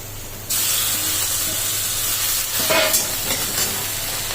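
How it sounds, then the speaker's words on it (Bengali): Chopped onions frying with crushed ginger and garlic, a steady close sizzle that swells suddenly after half a second, with spoon scrapes and stirring clatter later on. "পেঁয়াজ কুচি ভাজা হচ্ছে"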